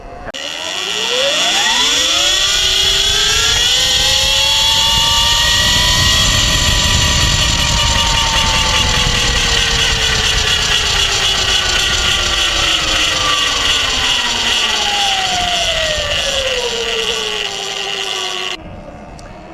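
A small two-stroke engine on a 79 Bike GT motorized bike, miked right at the motor, buzzes loud and close, climbing in pitch, holding high and easing back down over a long steady run.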